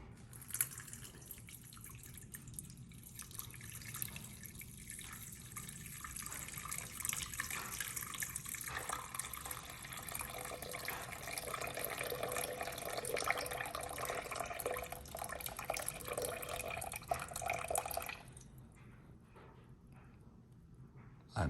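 Tap water runs steadily into a container, measured by weight for high-hydration keto pizza dough, a continuous close splashing stream that holds for about eighteen seconds, then stops abruptly, leaving a quiet room.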